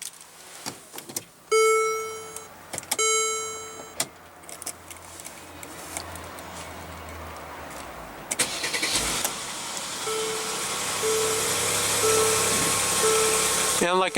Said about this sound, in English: what you're hearing is a 3-liter bi-turbo V6 engine